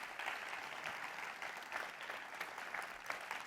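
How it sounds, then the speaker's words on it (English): Audience applause rings out for two ASL interpreters at an evening talk event, a steady, even wash of clapping from a room full of people, moderately distant and unbroken for the whole stretch. "Can we give them a round of applause, please?"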